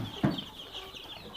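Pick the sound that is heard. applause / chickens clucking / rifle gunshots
chickens clucking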